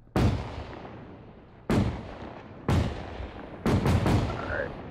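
A BMP-2's 30mm cannon fires high-explosive rounds in Arma 3, four loud booming shots spaced over a few seconds, the last a quick double, each with a rumbling tail.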